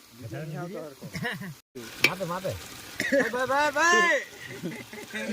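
Ginger-garlic paste sizzles as it is added to hot oil in a pan for a chana dal tempering, a steady frying hiss running beneath continuous talking.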